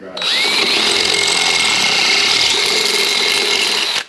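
A power drill whines at a steady high pitch for about four seconds, loud and close, then winds down, in a garage during suspension work on a Holden Ute.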